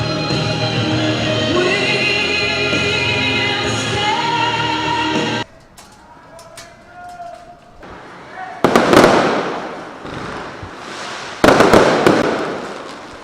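Fireworks burst at Manila Ocean Park, marking the end of a show: after a stretch of loud, steady sound, sharp crackling explosions strike in two bright, loud bursts, heard alone.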